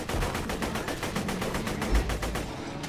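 A rapid, steady burst of gunfire from a low-level starting gun in Borderlands 2 aimed at bullymongs, with closely spaced loud shots running the whole time and no talk.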